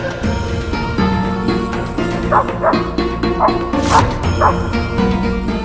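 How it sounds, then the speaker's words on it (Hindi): A dog barks repeatedly in short, loud bursts over a steady musical background, with yips scattered throughout. "इस तरह भौंकना"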